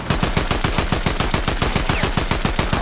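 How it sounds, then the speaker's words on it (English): Rapid automatic gunfire from a video game, a steady stream of sharp, evenly spaced shots, loud and close, running continuously with no pauses. "They're shooting at us from the island."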